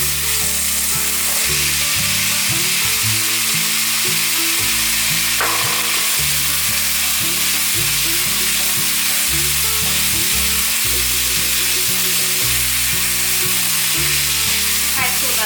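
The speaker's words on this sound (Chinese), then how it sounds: "这时候可以开中小火， 大略炒匀后放入小黄瓜。" Cabbage and cucumber stir-fried in a wok over medium-low heat give a steady, loud sizzle with a running hum under it, alone and with no talk.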